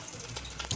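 Water heating in a cooking pot, bubbling with a soft, continuous frothy hiss, close and steady for under a second.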